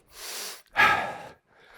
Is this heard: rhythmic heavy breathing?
yes